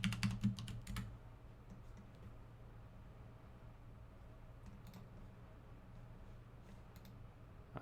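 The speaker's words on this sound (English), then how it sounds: "I'll just gonna have to bear with me with the keyboard sounds for a minute." Computer keyboard typing during a live mobile-game testing session, a dense burst of keystrokes in the first second followed by lighter, scattered tapping over a steady low hum.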